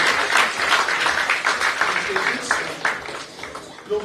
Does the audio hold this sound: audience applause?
yes